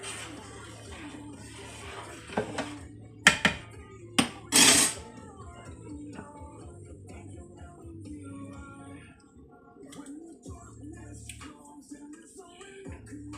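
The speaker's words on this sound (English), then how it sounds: "Give it a good little stir." A spoon stirring a teal and deer sausage gumbo in a pot, making a few sharp metallic clinks and scrapes against the pot early on, then a quiet low hum of simmering.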